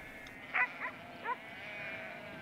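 Corriedale and Merino sheep on the Las Buitreras estate in Patagonia give three short, faint bleats in quick succession over a quiet, windy background, with no voices.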